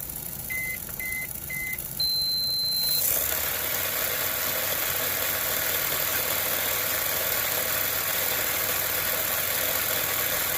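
An X-speed motor with an 8-tooth pinion drives the wheels of a Mini-Z RC car on a speed dyno. After three short beeps and a longer tone, a steady high-pitched whine starts and holds up close.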